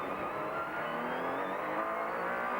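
A GT race car accelerates hard at Laguna Seca during the 1997 FIA GT Championship, its engine note climbing in a loud, sustained roar with other traffic on track.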